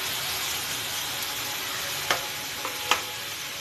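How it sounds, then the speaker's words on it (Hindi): Mixed vegetables of potato, peas and fenugreek cook in a pan on low heat, giving a steady soft sizzle with a few faint clicks of a utensil near the end. "अब हम इसको हल्की आंच पे पकने रखेंगे।"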